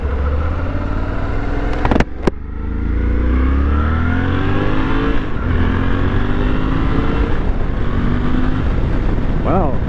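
Suzuki V-Strom 800DE motorcycle pulling away with strong torque: loud, close engine and road roar after a brief clunk, the revs climbing in rising sweeps through gears, steady and unbroken.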